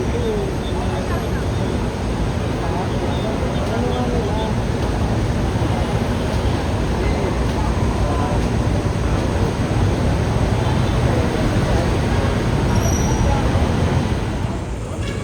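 Dense, steady roar of vehicle traffic at a congested intersection on EDSA, with buses and cars idling and rumbling together as a continuous close wash of engine noise, no single vehicle standing out.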